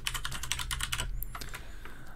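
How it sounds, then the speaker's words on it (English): A computer keyboard is shifted on a desk and then typed on, a quick run of close, crisp key clicks followed by a few scattered taps, with no one speaking. "I need to move my keyboard."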